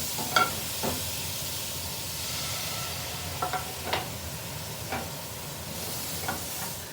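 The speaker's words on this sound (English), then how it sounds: "we're gonna deglaze with the Marsala wine" Marsala wine deglazing a hot pan for chicken Marsala: a steady, soft sizzling hiss with a few light scrapes and clinks of a utensil, nearby and without talk.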